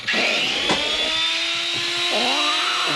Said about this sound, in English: This guy's coming with a chainsaw